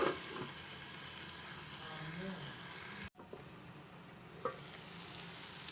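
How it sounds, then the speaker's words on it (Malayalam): Vegetable curry sizzles and is stirred in a pan, a soft close crackle with scraping, broken by a brief cut midway before the quieter frying resumes with occasional spoon knocks. "നമുക്ക് ഇത് എല്ലാം കൂടി നല്ലതുപോലെ മിക്സ് ചെയ്ത് അതിന് ശേഷം ഇതൊന്ന് അടച്ച് വെച്ച് നമുക്ക് 5 മിനിറ്റ് വേവിച്ചെടുക്കാം"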